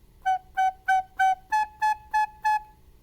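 Eight short, crisp recorder notes in a steady quick rhythm, four on G then four on A, played solo and close up in a quiet room.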